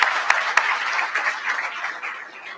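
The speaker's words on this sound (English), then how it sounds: "Ladies and gentlemen, give a big round of applause." Banquet guests give a full round of applause at the Monaghan GAA Gala Banquet 2013: dense, even clapping from a crowded room, a few sharp claps standing out near the start, then fading slightly.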